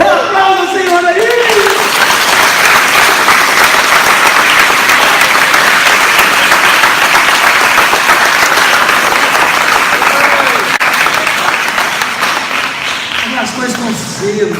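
A church congregation applauds loudly and steadily for about fourteen seconds during a sermon, with voices calling out over the dense clapping before it eases slightly at the end.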